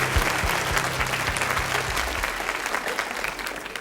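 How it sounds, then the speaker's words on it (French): Loud, sustained audience applause from a studio crowd at a French children's television show, dense clapping filling the stretch alone with a low musical tone underneath at first. "On l'applaudit très fort."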